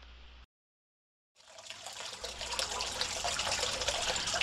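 Water trickles and splashes in a pumped pondless water feature; after a brief drop to silence, a steady, fairly close rush of flowing water fills the rest of the clip.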